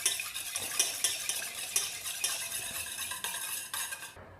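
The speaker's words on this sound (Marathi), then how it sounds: "दही आणि तूप व्यवस्थित मिक्स करून घ्यायचं" A spoon stirs yogurt and melted ghee together in a bowl, making quiet, repeated clinks and scrapes in a steady rhythm. There is no talk.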